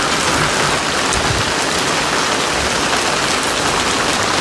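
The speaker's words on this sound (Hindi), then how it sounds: "कितनी तेज़ अभी बारिश लगनी शुरू हो गई।" Heavy rain pours down steadily in a hill village, a dense, uniform hiss of drops on surfaces that fills the whole stretch without pause or voices.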